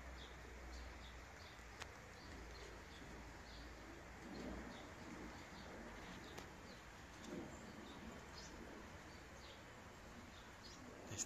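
Young Birmingham Roller pigeons at a loft coo softly in repeated low calls, faint and distant against a steady background hiss, with occasional light chirps.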